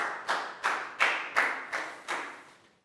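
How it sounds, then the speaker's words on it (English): A small class of schoolchildren gives a round of applause during a health lesson: six separate, evenly spaced claps struck together, each decaying quickly, fairly close and moderately loud, with no talking. "High five, big round of applause."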